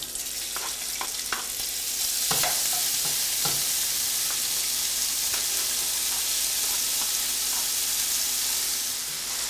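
Chicken frying with onions in a pan, giving a strong continuous sizzle and hiss with occasional scraping and stirring knocks, close and loud with no voices.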